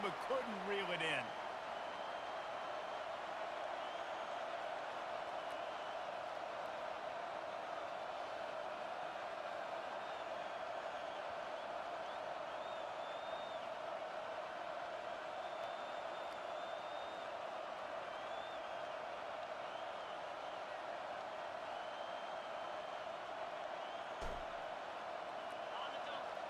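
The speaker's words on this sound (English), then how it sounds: "Decibels rising as the crowd gets behind this defense on third down" Stadium crowd noise in a college football video game, Louisville vs Oregon, a constant dense roar holding steady under faint commentary for the whole stretch, with a brief thump near the end.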